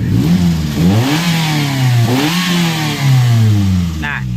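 Daihatsu Gran Max engine revving as the throttle is pressed, several rising and falling surges of engine pitch over an idle, close and loud, with someone talking over it.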